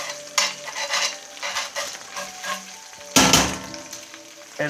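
Chorizo sizzling in a cast iron pan, a continuous greasy frying hiss broken by scraping stirs and a sharp clank of a utensil against the pan near the end.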